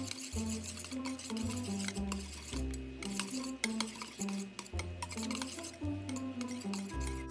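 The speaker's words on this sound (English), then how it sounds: "So I'm gonna whisk this all together" A whisk stirring banana muffin batter in a bowl makes soft, repeated scraping and light clinks against the sides, heard quietly beneath rhythmic background music.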